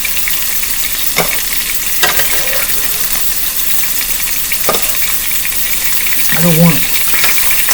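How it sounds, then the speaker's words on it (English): Chillito filling frying hard in plenty of hot grease, a loud, continuous close sizzle with spatter pops and a few sharp clinks, while someone speaks briefly over it. "You're getting showered with hot grease right now."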